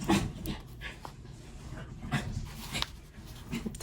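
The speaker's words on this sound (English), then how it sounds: "The dogs are playing." Dogs playing close by, panting quickly and steadily, with a few soft whimpers and scuffling sounds mixed in throughout.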